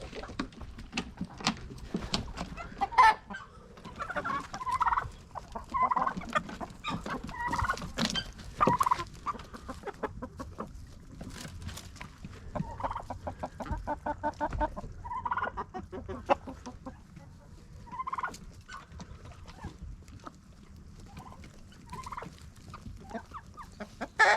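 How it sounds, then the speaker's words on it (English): A flock of chickens clucks and squawks close by, a busy, uneven chatter of short calls that carries on throughout. "you feed them to the chickens"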